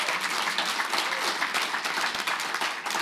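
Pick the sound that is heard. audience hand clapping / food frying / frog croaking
audience hand clapping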